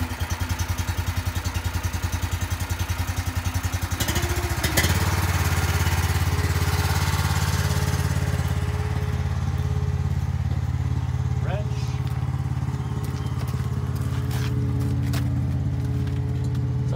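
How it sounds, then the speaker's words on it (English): The engine on a blade trailer turns over and catches, then settles into a steady, loud, rough running rumble with some clatter, close by and continuing for well over ten seconds. "So I'll start this engine."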